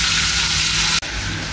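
Fish with roe frying in a pan of hot oil on a home kitchen stove, a steady loud broadband sizzle that briefly drops out for an instant before resuming.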